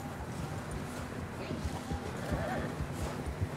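Horse hooves clip-clop in Red Dead Redemption 2, a soft steady patter under wind-like ambience, with voices talking over the riding throughout.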